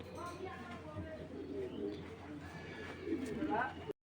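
A male racing pigeon held in the hand gives low, throaty coos, close and soft, with a person talking quietly around it.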